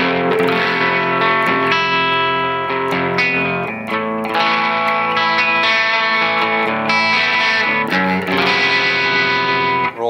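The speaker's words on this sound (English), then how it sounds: "Let's see how that reacts with a little bit of the dark reverb." An electric guitar strums chords through a Blackstar Amped 3 amp, the sustained, distorted tones washing into a dark, lingering reverb that swells and fades between strums.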